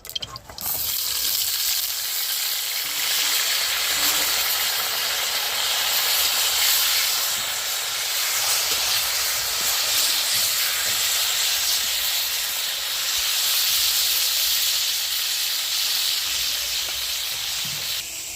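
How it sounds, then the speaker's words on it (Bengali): Pointed gourd (potol) pieces fry in hot oil in a kadai, giving a continuous broad hiss that holds steady and fairly loud for the whole stretch, with faint background sounds. "ওদিকে পটল ভাজাটা হতে থাক"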